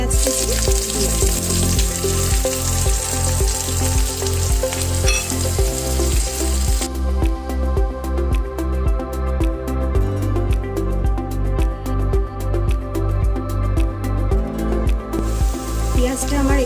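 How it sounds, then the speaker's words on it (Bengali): Chopped onion fries in hot white oil for a kadai mushroom dish, giving a loud, steady, close sizzle that runs unbroken throughout. "তেল গরম হয়ে গেছে, আমি এবার এর মধ্যে পেঁয়াজ কুচি দিয়ে দিচ্ছি।"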